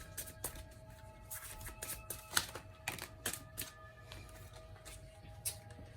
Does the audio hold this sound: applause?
no